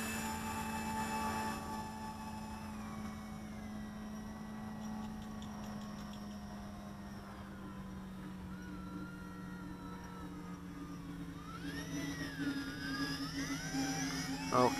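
Yizhan Tarantula X6 quadcopter lifting off and flying, its motors giving a steady droning whine that holds fairly level, then rises and warbles in pitch near the end as the craft speeds up and maneuvers, with no talking.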